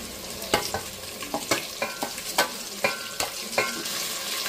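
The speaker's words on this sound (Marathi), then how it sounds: "तर हे बघा आता मसाला टाकलो मी, जो मिक्सर मधून काढला" Ground masala paste from the mixer, with curry leaves, fries in a pan for a lentil curry (amti). A close, steady sizzle is broken by regular scraping stir strokes about every half second, with no voices.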